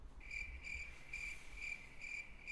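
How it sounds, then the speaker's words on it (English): Crickets chirp in a faint, even rhythm, each short trill pulsing at a steady rate against quiet background noise, with no voices. "Crickets."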